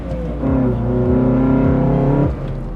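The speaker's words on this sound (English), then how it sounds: "the intake noise is just straight up aggressive" Honda Accord EXi-S CD5 engine under acceleration, its loud aggressive intake note rising steadily in pitch through a gear, then a brief drop and climb again, heard from inside the car.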